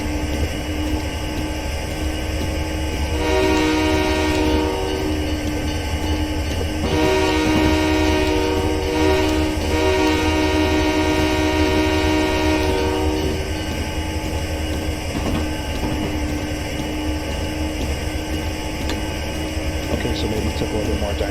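A mixed freight train in Train Simulator runs under dynamic braking, a steady loud diesel rumble with a sustained droning whine that builds and fades, heard up close, with talk at times.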